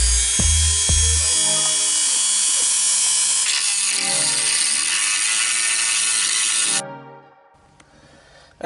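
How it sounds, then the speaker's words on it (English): Dremel rotary tool cutting down a bolt, starting with a couple of knocks and then a loud, continuous high-pitched whine that grinds on for several seconds and stops abruptly, leaving a quiet tail. "so I got my Dremel right here"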